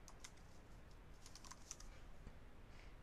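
Soft, quick typing on a computer keyboard, a light irregular patter of keystrokes in a quiet room with faint background hiss.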